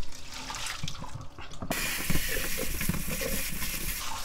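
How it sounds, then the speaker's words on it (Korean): Boiled hijiki seaweed rinsed under a cold running tap, a brief quiet start giving way to a steady, close rush of water splashing over the seaweed in a sink. "이렇게 찬물로 헹궈서 시원하게 식혀주고."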